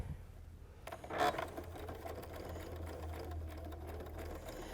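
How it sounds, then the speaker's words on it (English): A sewing machine stitches a quarter-inch seam through quilt fabric, a steady mechanical whir running continuously after a brief start, close and moderately quiet with no talking. "I'm just going to continue down and sew my 1/4 inch seam"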